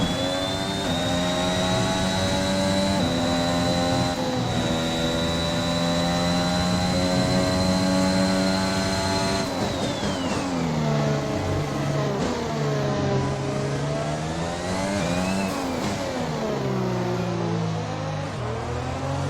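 A Formula 1 car engine in the racing game F1 2021 screams steadily at high revs, then shifts through falling and rising pitch sweeps as the car brakes and accelerates, loud and continuous with no speech.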